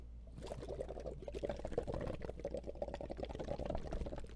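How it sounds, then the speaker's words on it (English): Soft, steady bubbling gurgle of air blown through a liquid, close and quiet, continuing for several seconds with irregular little pops. "Look, look, I'm making bubbles."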